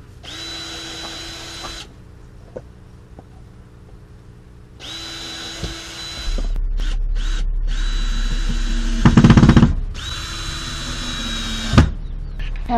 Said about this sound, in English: The reason I want to drill those is it doesn't split the wood when I put screws in